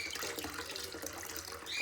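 Filtered water runs steadily from a kitchen tap, a soft continuous splashing hiss that stays fairly quiet and even, with a brief brighter tone near the end.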